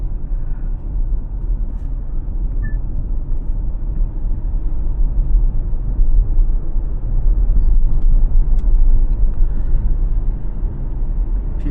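A Chery Omoda E5 electric car driving downhill on a highway, heard from inside the cabin as a steady low road rumble and tyre drone that swells slightly toward the end, with no voices.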